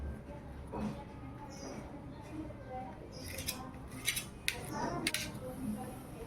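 Quiet room tone, then a handful of crisp, quick snipping cuts through curry leaves, coming in a small irregular cluster near the middle.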